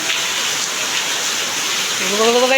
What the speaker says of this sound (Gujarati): તમે જોઈ શકો છો કેટલો વરસાદ આવે છે